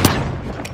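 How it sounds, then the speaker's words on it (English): A flashbang grenade goes off in The Finals multiplayer match, a single sharp burst at the very start that quickly dies away into a short ringing tail. "Tossing a flashbang."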